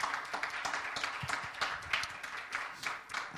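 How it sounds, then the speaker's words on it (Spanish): A church congregation at a Spanish-language service applauding, a dense, moderately quiet wash of many hands clapping steadily with no talk on top. "Denle un aplauso al Señor"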